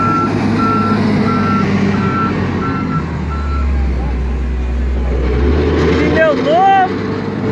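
Dump truck backing up, its reversing alarm sounding in a steady string of evenly spaced beeps over a loud, rumbling diesel engine, close by, while people talk nearby and a whistle-like call rises near the end.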